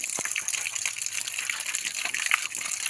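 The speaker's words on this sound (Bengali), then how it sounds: "পরিষ্কার করে নিচ্ছি ধুয়ে।" Fresh pond fish are rinsed under gushing water, a steady close splashing and pouring with small irregular surges as the fish are handled, with no speech.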